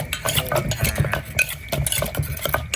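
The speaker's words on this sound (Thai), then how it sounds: "หลังจากนั้นก็คนที่เข้ากันนะคะ" Green papaya salad being stirred with fermented fish sauce, a continuous wet scraping and clattering of utensils against a bowl, close and steady with no talking.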